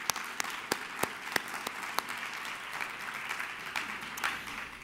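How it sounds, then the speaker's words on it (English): Library literary award audience clapping, a fairly faint but steady patter of many hands with a few sharper individual claps standing out throughout. "So may I have one other clap for those guys?"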